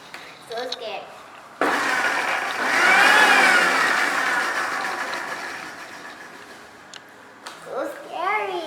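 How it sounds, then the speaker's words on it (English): A kitchen blender whirs through an orange sauce for a vegetable salad, a loud steady motor roar lasting several seconds and slowly fading, with someone talking before and after it. "And now let's blend it."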